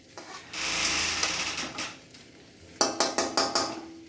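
Potatoes are stirred into browned spices in a cooking pot, giving a near scraping swish, then a run of five sharp, evenly spaced metal clinks of the spoon against the pot near the end.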